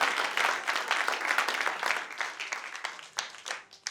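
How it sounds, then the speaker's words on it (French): Audience applause in a French comedy show, dense clapping that gradually thins and fades over a few seconds. "Applaudissez pour lui, s'il vous plaît."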